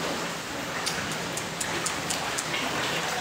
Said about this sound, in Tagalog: Lord, patigilin niyo na ulan,